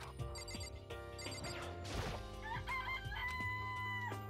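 Chickens in a coop cluck, and a rooster crows in the Danganronpa video game, the bird calls layered over a dense game soundscape with music and a brief crash midway.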